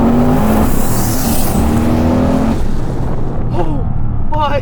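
A 1000HP twin-charged 6.6L LS stroker V8 in an HSV ClubSport R8 revs hard and close, a loud raw engine roar rising in pitch, then dropping off into a few sharp blips near the end.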